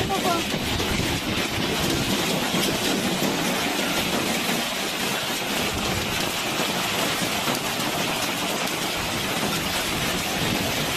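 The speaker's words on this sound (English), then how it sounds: "What a heavy rain. What a hail." Heavy rain and hail driven by strong wind at a local grocery store during a severe storm, a dense, continuous roaring hiss of pounding precipitation at full loudness throughout.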